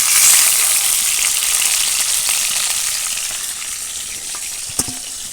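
Pieces of chicken frying in hot oil for a Bengali biryani, giving a steady, close, hissing sizzle that slowly fades, with a brief clink near the end.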